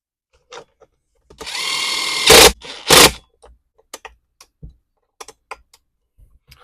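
A power driver runs in a whirring burst and then two louder short bursts while driving airbox screws on an Echo PB-250 leaf blower, followed by scattered light ticks and clicks from the tool and parts.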